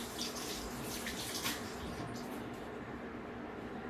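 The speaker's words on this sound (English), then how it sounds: "Rinse these fingers off again like this." Fingers rinsed under a running kitchen tap while baking a grapefruit cake; a steady, close rush of flowing water continues without pause, with no talking.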